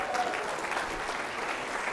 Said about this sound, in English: Clap for Barb.